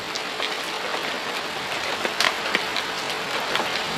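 Heavy rain pours down in a dense, steady wash, with a few sharper drips and splashes standing out near the listener.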